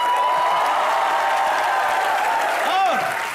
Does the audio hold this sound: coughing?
no